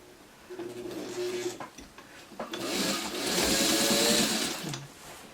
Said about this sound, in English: So I'm just going to finish sewing this, and then we'll flip it over to the front.